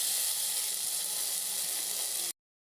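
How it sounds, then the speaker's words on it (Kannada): A ground mixture hits hot tempering oil with mustard seeds, curry leaves and onion, giving a loud, even, close sizzling hiss that runs steadily, then cuts off abruptly into silence. "ಈ ಒಗ್ಗರಣೆಗೆ ರುಬ್ಕೊಂಡಿರುವಂತಹ ಮಿಶ್ರಣ ಸೇರಿಸಿ"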